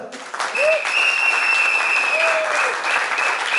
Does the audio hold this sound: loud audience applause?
yes